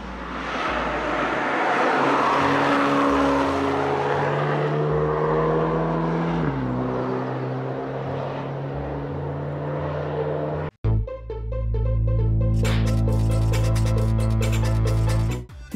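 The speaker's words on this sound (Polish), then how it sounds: "A tak brzmi nowe BMW M235i Grand Coupé." A new BMW M235i Gran Coupé engine sounds loud and close, droning steadily and then briefly cutting out before a sharp rev surges up and holds strong to the end.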